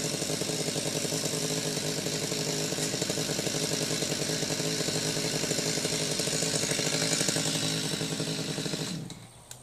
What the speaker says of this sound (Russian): Все, начинает пилить.